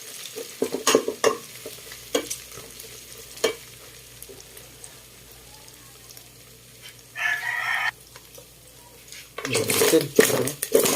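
Vegetables for Ilocano pakbet are stirred in hot oil with a metal spatula, giving intermittent close scrapes and clinks over a low sizzle. A rooster crows in the background midway, and a loud, dense burst of stirring comes at the end.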